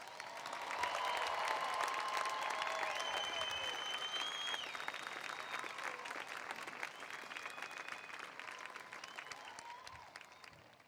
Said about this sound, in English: Let's give our class of 2023 a round of applause.